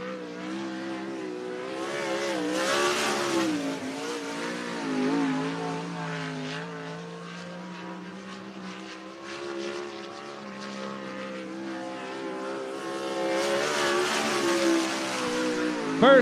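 Sprint or midget race car number 33, driven by Kyle Alberding, laps Cottage Grove Speedway in Oregon; the engine note rises and falls steadily as it circles the track, loud throughout with a louder pass near the end.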